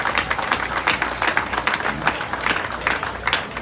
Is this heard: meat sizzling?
no